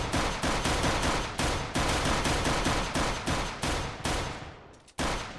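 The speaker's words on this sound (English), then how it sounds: "I'm going to shoot it." Rapid automatic gunfire from a gun in a modded Minecraft game, loud, steady bursts of shots running for about five seconds with a brief gap near the end before firing resumes, no talk.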